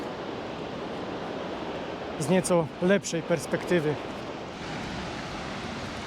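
The Åmotan waterfall roars as a broad, steady, close wash of falling water, with someone briefly talking over it.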